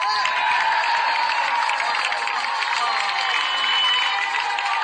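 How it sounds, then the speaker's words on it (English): Steady crowd applause at a camp for displaced people in Edo, clapping for the leaders there, a dense, continuous wash of clapping that holds at an even level throughout with no speech over it. "A round of applause for our leaders here."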